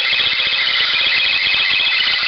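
A harsh, buzzing electronic whine with a rapid pulsing flutter, a 1960s Eaton Viking AM/FM radio picking up interference from a camera, steady and fairly loud throughout.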